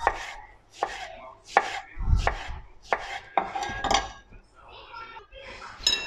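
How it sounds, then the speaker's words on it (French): Knife chopping three persimmons (kakis) into fairly coarse pieces for a fruit tart, a series of sharp, close cuts on a board at an uneven rhythm, with faint clinks in the pauses and a lower thump near the middle. "Alors je les coupe pas très fin"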